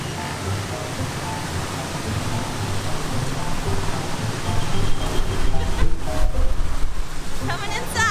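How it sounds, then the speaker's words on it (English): Heavy tropical rain pours down in El Nido during the rainy season, a dense, steady roar of water that swells somewhat louder partway through, with faint clatter and movement mixed in. "I didn't know it's gonna start pouring."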